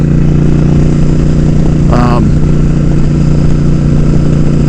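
Suzuki Boulevard S83 1400cc motorcycle riding along, a steady low engine drone running throughout with a brief higher-pitched mechanical whine near the middle.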